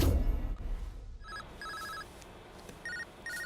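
A mobile phone rings with repeated electronic tone bursts in short pulses, following a louder low-pitched sound at the start.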